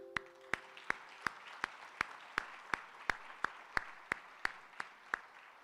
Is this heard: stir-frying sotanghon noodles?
no